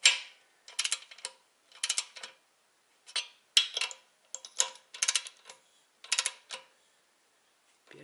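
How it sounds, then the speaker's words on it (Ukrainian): A torque wrench ratchets and clicks while cylinder head bolts are tightened on a Д 250 engine during a head gasket replacement: about nine short, sharp bursts of clicking separated by brief silences, close and alone. "а потім буду тягнути, щоб спрацьовував динамометричний ключ"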